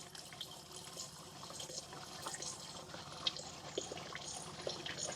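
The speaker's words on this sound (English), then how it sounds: "To ensure there's absolutely nothing of the old stuff left in these pipes when I drain everything out." Water drains out of the pipes of a VW T4 camper van's onboard water system, a soft continuous trickle and gurgle with occasional small drips and clicks, fairly faint and steady, with no voices.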